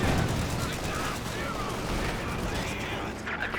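Dense, sustained gunfire in the World War II strategy game Company of Heroes 2, with a steady wash of overlapping shots and bursts filling the whole stretch, loud and unbroken, with a commentator talking over it.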